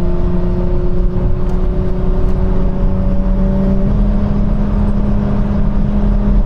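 A Nissan Skyline cruises on a German autobahn at a steady 155 km/h, heard from inside as a constant loud engine drone with tonal whine over heavy road and wind rumble, with no change in pace and no talking.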